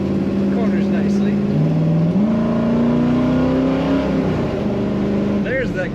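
A 1972 Chevrolet Nova accelerates from inside the cabin, its engine droning steadily as the automatic transmission kicks down and the pitch shifts, with someone talking over the engine.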